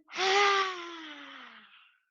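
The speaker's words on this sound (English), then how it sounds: "take a deep inhale in through your nose" A single deep breath in yoga breathing, loud and close, starting sharply and fading over about two seconds with a voiced, gasping tone.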